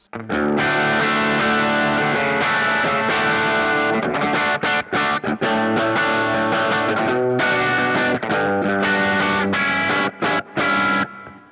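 An electric guitar with a bridge humbucker through a Kemper amp profile, lightly overdriven and slightly crunchy, plays strummed chords and short riffs, loud and close, with no talking.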